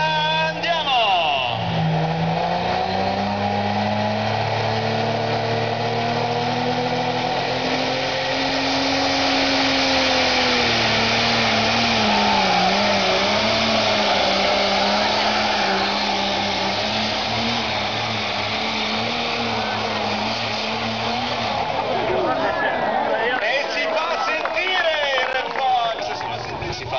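Red Fox tractor-pulling tractor at a Gonzaga, Italy pulling event, a loud sustained roaring engine drone with shifting revving tones across the whole run, under excited commentary.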